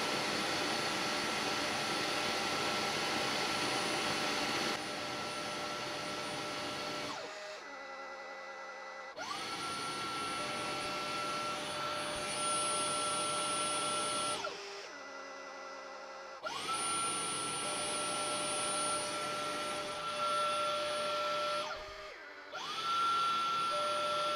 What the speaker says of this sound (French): Recyclage de l'eau sale. Cycle de nettoyage en cours.